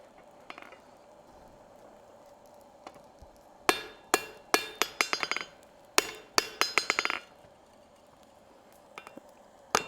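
A hammer strikes hot steel on an anvil while forging a decorative hacksaw, with a few scattered taps followed by two rapid bursts of ringing, clinking blows, close and alone.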